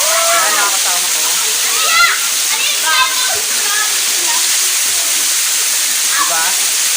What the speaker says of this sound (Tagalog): Dito tayo sa may kung saan bumabagsak yung tubig.